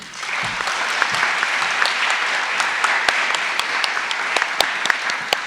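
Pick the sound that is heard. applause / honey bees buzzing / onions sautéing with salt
applause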